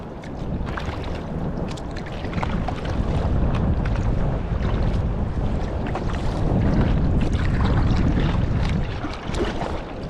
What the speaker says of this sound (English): These waves are actually kind of nice and rolly.